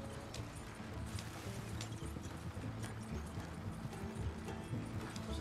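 Horse hooves clip-clop steadily in Red Dead Redemption 2, a continuous rhythmic trotting with game ambience around it.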